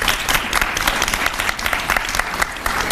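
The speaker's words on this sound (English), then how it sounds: "let me give them a round of applause" An audience at a Women in Government panel claps steadily, a dense wash of applause filling the room without pause.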